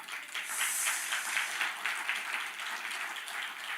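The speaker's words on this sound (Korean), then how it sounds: "여러분 박수를 치시려면 더 세게 몰아치셔야 됩니다" Applause from a political rally audience of free-right citizens, a dense, steady patter of many hands heard somewhat distant and faint, continuing alone without talk.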